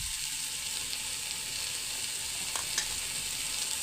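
Potatoes fry in a pan for a coastal-style oyster dish, a steady, even sizzle with a couple of soft stirring clicks partway through.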